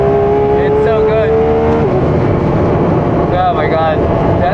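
A Ferrari race car at Clark Speedway revs, its engine note rising and falling in sweeping pitch glides over heavy wind rumble, loud and close, with voices talking over it.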